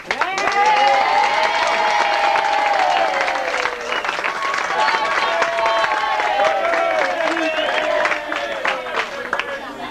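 A wedding reception room full of people applauds warmly and steadily, with some cheering mixed in, the clapping dense and close throughout.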